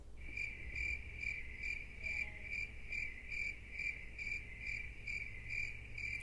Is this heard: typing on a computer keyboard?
no